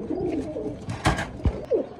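A pigeon coos close by in a loft, a few soft throaty calls among light background rustling.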